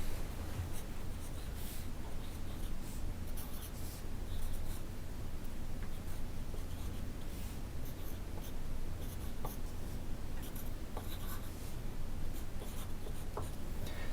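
A pen scratches steadily on paper as numbers are written around a drawn circle to make a clock, with continuous close scribbling strokes and short pauses between them.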